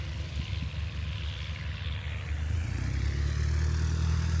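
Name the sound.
vintage propeller airplane at air show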